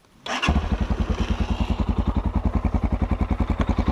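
A Tekken 250 motorcycle engine is started with the electric button: a brief whir, then it catches and settles into a loud, close, rapid, even single-cylinder idle putter.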